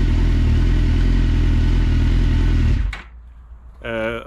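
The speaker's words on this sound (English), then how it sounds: "We shut the bike off because you can't hear when the bike is running" Suzuki GSX-R motorcycle engine idling loud and steady for about three seconds, then cut off abruptly, leaving a faint rumble before a short voice-like tonal sound near the end.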